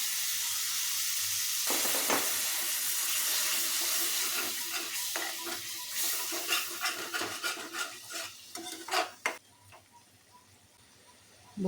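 Cashew and poppy seed paste hitting hot spiced oil in a pan, giving a steady loud sizzle with scattered crackles and stirring ticks that thin out and fade toward the end.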